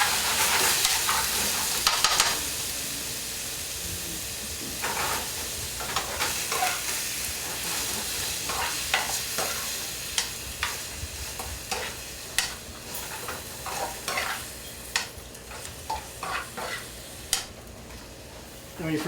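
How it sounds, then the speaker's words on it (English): Meat frying in a hot pan with a steady hissing sizzle, broken by repeated scraping and clinking of a utensil stirring it, close and continuous, with faint background talk at times. "when you first heard that sizzle when I added"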